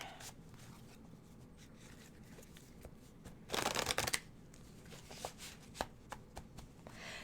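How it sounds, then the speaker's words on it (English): Lenormand fortune-telling cards being shuffled by hand, with soft riffling and tapping, a loud burst of rapid shuffling midway, then scattered clicks and card snaps, close and without talk. "I'm going to let you shuffle, and I'm going to shuffle again and cut them"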